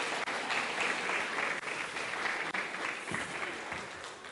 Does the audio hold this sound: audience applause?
yes